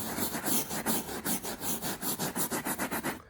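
Cleaning solution being scrubbed into carpet in quick back-and-forth strokes, a loud, rhythmic brushing rasp of about a dozen strokes, close and alone.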